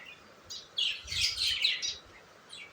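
Pet lovebirds and parrots chirping in a cage, a flurry of bright, overlapping high tweets that swell and fade in bursts, fairly close with no one talking.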